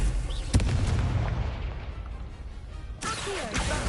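Confringo blasting curse detonating in Hogwarts Legacy, a loud booming blast at the start with a second burst later, amid dense game effects and a busy, rumbling background.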